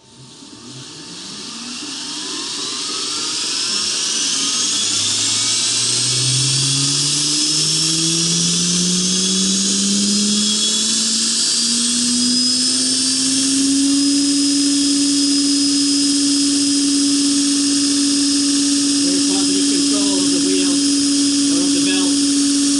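A Heretic 2x72-inch belt sander motor spins up with a whine that climbs in pitch, then settles into a loud, steady high-pitched drone close by.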